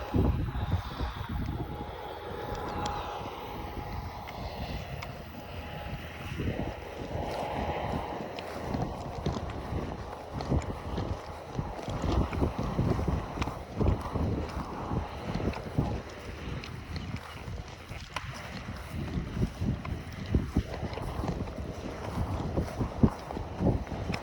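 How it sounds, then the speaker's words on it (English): Steady wind blowing outdoors on the Appalachian Trail near Boiling Springs, a continuous rushing and buffeting against the microphone with intermittent gusts and no talking. "Still pretty windy out."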